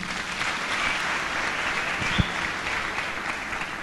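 A church congregation bursts into steady, sustained applause, a dense wash of many hands clapping together at moderate distance with no voices over it.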